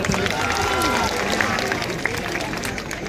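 Loud crowd applause and cheering from an audience at a Mahotsav Khandapada stage show, a dense continuous roar of clapping for about three seconds.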